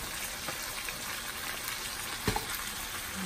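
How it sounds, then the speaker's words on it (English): Butter melting in a frying pan gives a steady, fairly loud crackling sizzle, with one brief clack of a utensil partway through and no voices. "I'm gonna get this and stir the butter melting in the pan."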